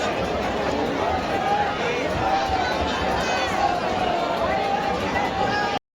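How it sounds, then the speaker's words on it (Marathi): A huge, tightly packed crowd of devotees at the hilltop Ekvira temple during the Chaitra Saptami festival, producing a dense, continuous babble of many voices and shuffling, with a voice speaking over it. "एवढी प्रचंड अशी गर्दी आहे"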